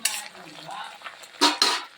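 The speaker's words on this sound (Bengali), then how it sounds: "নিম পাতাটা ঠিক এরকম ভাজা হবে, ভাজা হয়ে গেছে" Neem leaves sizzle and crackle in a hot pan, with a few scraping stirs and utensil clinks close by.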